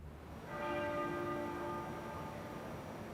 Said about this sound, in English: The sound of the Abbey's muffled bell.